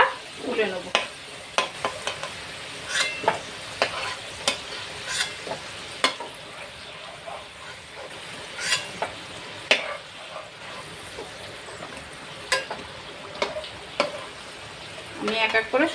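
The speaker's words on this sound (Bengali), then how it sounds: "আলুটা কিন্তু আমার লাল লাল করে ভাজা হয়ে গেছে" Potatoes sizzle and fry in hot oil in a pan, a steady crackling hiss broken by frequent sharp clicks and scrapes of stirring, with a voice faintly present in the background.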